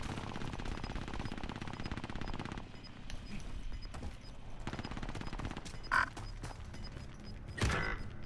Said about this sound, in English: They're still shooting at me.